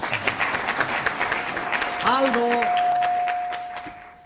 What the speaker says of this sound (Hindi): आप तालियां भी बजा सकते हैं।